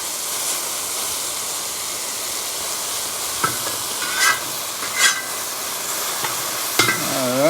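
Steady loud sizzling of food stir-frying in a hot cowboy wok, with a few sharp metallic scrapes and clanks of a utensil stirring.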